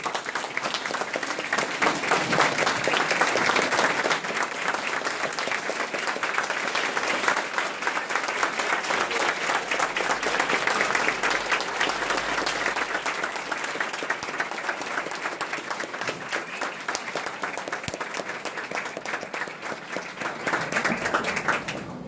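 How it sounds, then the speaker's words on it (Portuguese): A lecture audience at a university in São João da Boa Vista gives a long, sustained round of clapping, full and fairly close. It stays steady for over twenty seconds before easing slightly at the end. "pedir, então, à plateia que nos saúde com salve de palmas"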